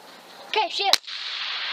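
A single sharp, loud gunshot from a Durkin Tactical 223 Wylde pistol with a 10.5-inch barrel firing 52-grain bullets, a short close crack with a brief tail, just after a short spoken word.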